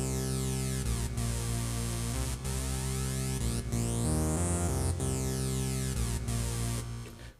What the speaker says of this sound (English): Now the analog synth sounds like this.